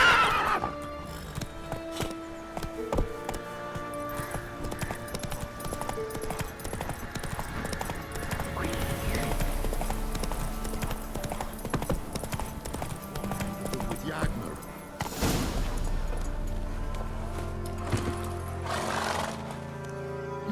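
Hooves clip-clop steadily as a horse gallops in The Witcher 3: Wild Hunt, with a whinny breaking through near the end, set against background game music and ambience.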